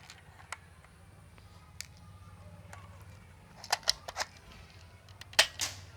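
A toy gun firing plastic bullets, quiet at first with a few isolated clicks, then a cluster of sharp snapping pops near the end over a low steady background hum.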